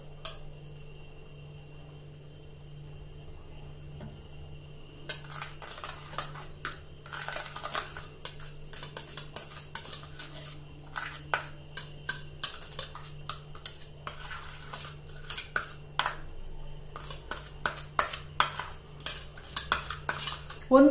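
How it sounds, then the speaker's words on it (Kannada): Spoon mixing Multani mitti face pack powder with rose water in a small bowl, starting quiet, then rapid, continuous clicking and scraping of metal against the dish, close and steady. "ಸ್ಪೂನ್ ಅಲ್ಲಿ ಈ ರೀತಿ ಮಿಕ್ಸ್ ಮಾಡ್ಕೋಬೇಕು"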